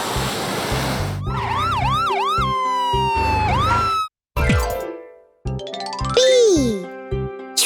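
A cartoon ambulance siren wails in rising and falling sweeps, loud and close, broken by short gaps, with bouncy boing-like effects and a voice mixed in over a toddler tune.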